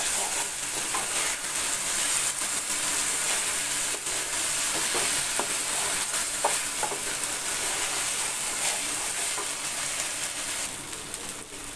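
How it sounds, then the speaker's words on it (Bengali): Rice frying with spices in a pot for hilsa pulao, a steady loud sizzle with intermittent scraping and stirring clicks, close by and continuous without talking. "এই চালের মধ্যে আর মশলার সাথে সব কিছু ভালো করে ভেজে নিব।"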